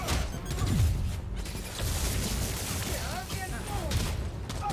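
Gunfire and clattering action fill a busy combat scene in the video game Spider-Man: Miles Morales, a dense continuous roar of shots and crashes with no pause.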